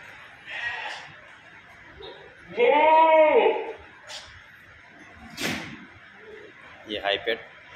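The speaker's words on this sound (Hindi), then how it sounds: "ये सिरोही मेल फीमेल जोड़ी" A male and female pair of Sirohi goats, kept among other goats for sale, gives one strong, drawn-out bleat near the middle. Talk, knocks and shorter calls are heard around it.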